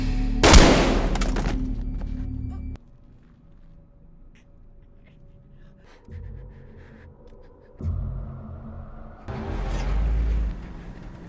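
Gunfire in a Korean casino-heist film, with a loud close burst of shots at the start, then quieter rumbling stretches, and another dense volley of shots near the end, no voices heard.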